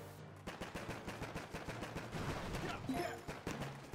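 Boom Beach video game raid with rapid rattling gunfire and artillery impacts, a continuous dense stream of fast shots under faint game music and effects.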